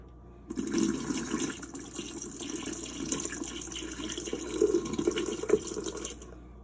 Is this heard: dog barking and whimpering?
no